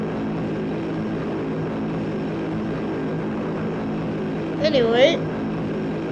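Turboprop plane coming in to land in Turboprop Flight Simulator, a steady droning engine hum throughout, with a brief voice cutting in near the end.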